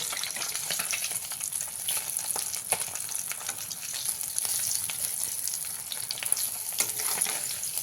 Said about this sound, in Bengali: মাছগুলো দিয়ে আমি কিছু সময় ভেজে নিয়েছি এবারে উল্টে দেবো